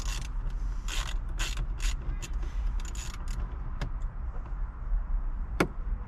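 A small 7mm bolt comes out during installation of a Banks iDash gauge in a vehicle, with a series of faint, irregular ratchet clicks and creaks, one sharper click standing out near the end.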